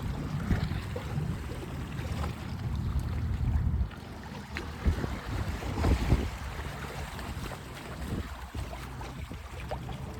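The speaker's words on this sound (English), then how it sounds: "I love hearing the water." Water lapping and washing in a bay beside a small island, a continuous close churning wash with wind buffeting the microphone, heavier for the first few seconds then steadier.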